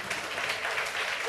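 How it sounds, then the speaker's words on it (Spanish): A church congregation claps for the Lord during a worship service, a brief, fairly faint burst of dense applause with voices mixed in. "Dele un fuerte aplauso al Señor"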